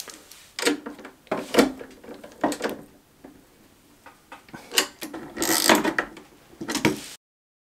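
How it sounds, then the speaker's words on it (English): A hand ratchet tightens screws on battery cable connections to an inverter charger in an off-grid solar setup, giving repeated bursts of close clicking that pause between turns. "This is where I'll use the ratchet to just tighten down these screws so that we can make sure we have a good connection."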